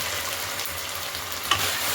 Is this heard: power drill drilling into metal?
no